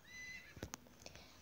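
A horse whinnies with a brief high rising call, followed by a few soft thuds that suggest hooves, heard fairly close in a quiet rural setting with no voices.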